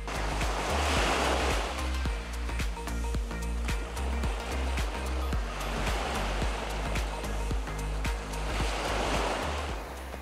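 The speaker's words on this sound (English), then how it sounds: "Just look at this perfect blue water and a quiet beach." Ocean waves wash onto a quiet beach on the Baja coast in a steady, loud surging roar, with a low, constant rumble beneath that may be wind or engine.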